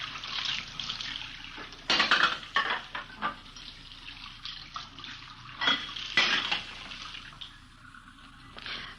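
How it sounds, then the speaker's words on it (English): Dishes and cutlery clatter and splash in a kitchen sink as they are washed and rinsed, with bursts of running water and clinks coming and going at close range. "We found her in the kitchen washing dishes."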